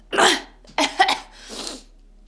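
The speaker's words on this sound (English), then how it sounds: "I can't stop coughing" A few short, harsh coughing bursts close up, separated by brief pauses, with no talking.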